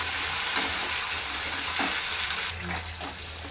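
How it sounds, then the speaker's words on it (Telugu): Chopped green chillies and ginger frying in a pan with curry leaves to follow, a soft steady hiss with a few light stirring knocks, fairly quiet and without speech. "పచ్చిమిర్చి కట్ చేసి పెట్టుకుని పచ్చిమిర్చి, అలాగే అల్లం, ఇవన్నీ కూడా వేయించుకున్నామండి"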